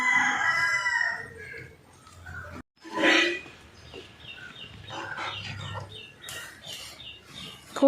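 Backyard poultry kept alongside a small spinach plot: hens cluck and a rooster crows nearby, with calls recurring across the stretch and a few quiet voices underneath.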